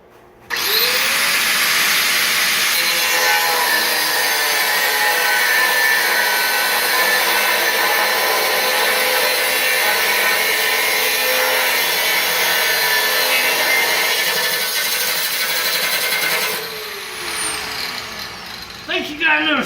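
A power saw cuts steadily through wood pieces for trimming, a loud, continuous high-pitched whine holding for about sixteen seconds before winding down to a few faint clatters.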